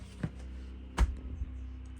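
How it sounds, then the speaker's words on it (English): A steady low mechanical drone from a generator runs throughout, with a couple of brief thumps and clatters on top. "that noise you hear in the background is a generator"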